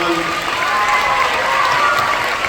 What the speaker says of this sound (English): let's go ahead and give them a round of applause for our 3rd through 5th graders